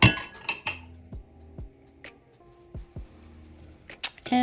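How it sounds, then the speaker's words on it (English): A utensil stirs melted butterscotch chips and condensed milk in a bowl. Sharp metallic clinks and taps against the dish come at irregular intervals with quiet gaps between them, and no one speaks. "And stir until fully combined."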